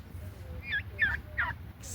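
Farm turkeys gobble three times in quick succession, a short rapid warbling call at fairly even intervals, moderately near and fairly quiet over a low background hum.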